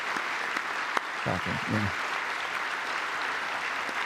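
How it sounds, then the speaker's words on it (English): Steady applause from a large chamber audience during a presidential address to Congress runs throughout, with a brief remark spoken over the clapping partway through. "there are some Democrats actually applauding them."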